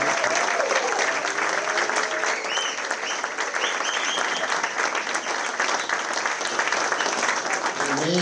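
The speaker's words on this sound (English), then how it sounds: "please start with a round of applause for our much beloved local icon, Skipper Carrillo, a.k.a. ball." Sustained applause from an audience at a local historical society memorial tribute, a dense, steady clapping that fills the room and continues at an even level throughout.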